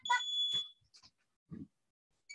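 A household smoke alarm sounding while cooking with kids, a few short shrill beeps that stop and start irregularly, near and fairly loud, with brief pauses between.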